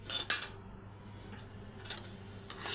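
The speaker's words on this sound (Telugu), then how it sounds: "ఓపిక ఉండాలండి, ఇలాగా స్లోలో పెట్టుకొని వేయించుకోవాలి, లేకుంటే మాడిపోతుంది" Flax seeds roast slowly in a pan while a utensil stirs and scrapes the metal in short, soft bursts with quiet gaps between them, close and faint.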